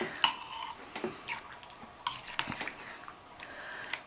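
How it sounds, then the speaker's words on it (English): A metal spoon being cleaned in a kitchen: a few sharp clinks of cutlery against a pot or dish, light scraping and faint dripping water, fairly quiet and close, with no talking. "Clean my spoon."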